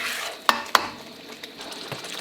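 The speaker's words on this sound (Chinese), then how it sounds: "把这个西红柿的汁水呢给它炒出来啊" Tomatoes are stir-fried in a wok with chili oil, the spatula striking and scraping the metal in a couple of sharp clanks over a bright, continuous sizzle.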